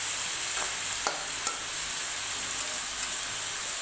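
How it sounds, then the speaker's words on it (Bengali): Chicken meat stirred and frying in a pan for a Nepali-style chicken with mustard greens dish, a steady close sizzle broken by a few light scraping clicks of the spoon, with no talking. "ভালো করে মাংসটাকে আর কি নেড়ে চেড়ে ভালো করে ভেজে নিচ্ছি আমি।"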